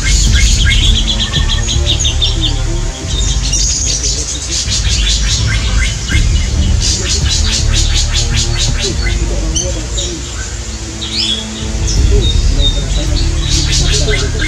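Greater racket-tailed drongo in forest calling repeatedly, its bright metallic notes and chirps arriving in bursts over a continuous buzz of insects and other birds, fairly close and loud.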